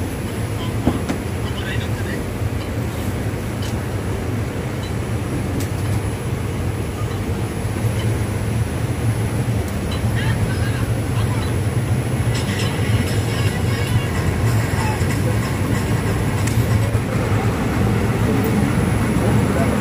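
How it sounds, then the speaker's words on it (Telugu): A train pulls out of Tadipatri railway station, a loud continuous low rumble of wheels and engine that builds slightly, with faint voices now and then in the background. "తాడిపత్రి రైల్వే స్టేషన్ డిపార్చర్ చూడండి"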